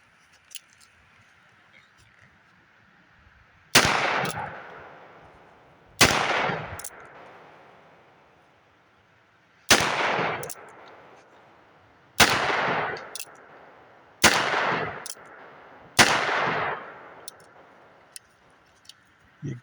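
A single-action .45 Colt revolver is fired until empty at an outdoor range. Six loud, separate shots come a couple of seconds apart, each followed by a rolling echo, with quiet between them.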